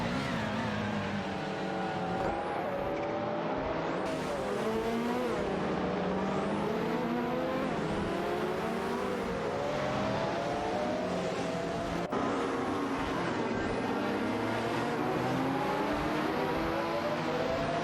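Several AI-driven race cars scream through a tight corner, engine notes rising and falling in overlapping sweeps as they brake and accelerate side by side, loud and continuous with no talk.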